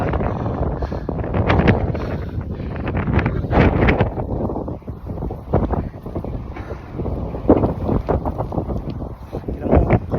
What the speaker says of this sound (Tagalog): Yung mga hangin ang lakas.